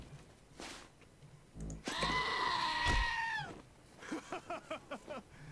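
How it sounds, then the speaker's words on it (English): A goat in the video game Wasteland 2 lets out a long, loud bleat, then a rapid series of shorter bleats, with thumps from headbutting among them. "I just wanted the goat to hit you in the ass."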